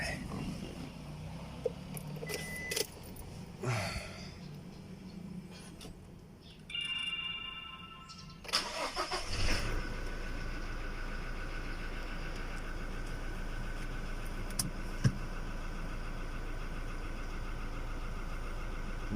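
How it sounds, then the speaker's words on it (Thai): A Toyota Hilux Revo pickup from the 2015–2019 generation, with its EGR valve blocked off, is started partway through after some quiet fumbling, then settles into a steady, close-up idle. "เราไปสตาร์ทเครื่องดูกันนะครับว่าไฟจะโชว์ไหม"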